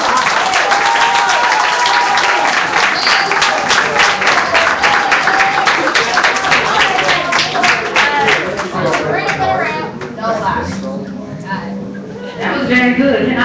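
An audience at a live poetry event applauds with loud, sustained clapping and cheers that fade slightly near the end, mixed with crowd chatter and voices.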